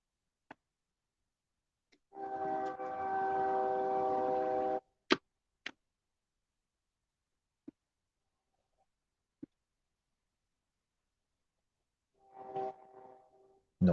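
A train passes outside at quiet night, sounding a loud sustained horn blast of about three seconds, followed by scattered sharp clicks and knocks, then a second shorter horn note farther off near the end.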